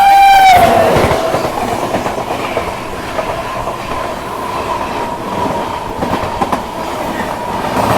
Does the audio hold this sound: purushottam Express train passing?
yes